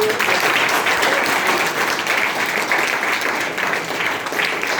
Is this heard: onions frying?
no